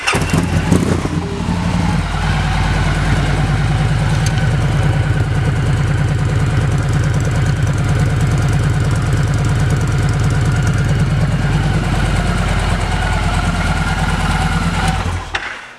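A gloss black 2015 Victory Cross Country motorcycle with aftermarket exhaust pipes idles steadily at close range, giving a low, loud, even rumble that carries unbroken for about fifteen seconds before cutting off.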